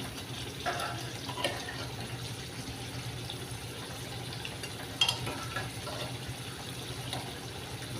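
Mutton pieces dropped into oil-fried masala in a pan for shahi mutton masala, giving a steady low sizzle with soft stirring scrapes and a brief sharp clatter midway, no talking.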